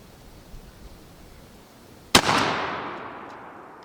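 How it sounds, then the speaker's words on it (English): A single loud shotgun blast fires a Longbeard Carlson turkey shell through a factory choke tube. It comes after quiet outdoor ambience, hits with a sharp crack and rolls off in a long, fading echo. "We're going to go with the Longbeard Carlson Turkey, and then we'll fire 5 shots with that"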